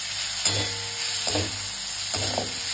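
Ginger and cumin powder fry in hot oil with a soft continuous sizzle. Three brief scraping strokes of a spoon stirring in the pan sound close by, and nobody speaks.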